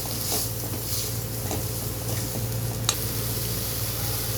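Chopped tomatoes and turmeric sizzling in a pan with green chillies for butter matar chaat, an even hiss of frying with faint stirring taps and no talk.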